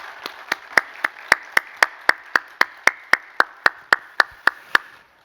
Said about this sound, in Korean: 우리 함께 한번 박수하도록 하겠습니다